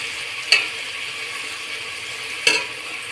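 Ginger garlic paste fries in a pan with a steady soft sizzle, broken by two brief scraping stirs about two seconds apart.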